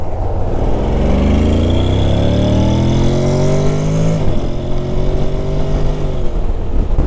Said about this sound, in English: this is a good opportunity to see how well the bike accelerates in sport mode